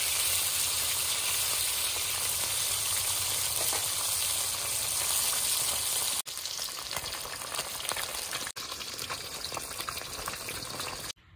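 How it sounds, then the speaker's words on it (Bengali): A single piece of fish frying in a pan, hissing with a steady, close crackle of hot oil that fills the scene, briefly interrupted by a couple of abrupt cuts and with no talking. "এখন মাছ ভাজবো, এক পিস মাছ ভাজা দিয়ে দেবো"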